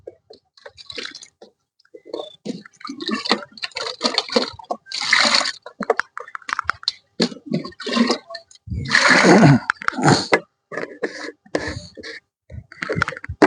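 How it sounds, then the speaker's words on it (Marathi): Jaggery water is poured into a large batch of water for a wheat crop treatment and stirred, giving irregular sloshing splashes and gurgles in separate close bursts with quiet gaps. "त्याच्यात आपण दोन किलो गुळाचं पाणी घालून राहिलो आहे"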